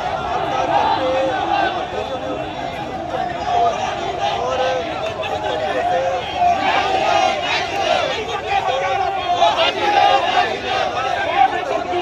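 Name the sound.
crowd of protesters at the clock tower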